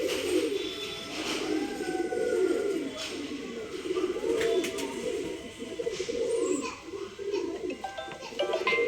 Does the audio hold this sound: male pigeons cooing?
yes